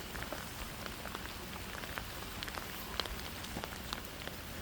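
Rain falling on a vegetable garden with papaya and lemongrass, a soft, even hiss dotted with distinct close drip and patter ticks on leaves, steady and fairly quiet throughout.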